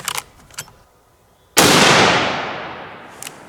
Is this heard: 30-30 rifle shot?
yes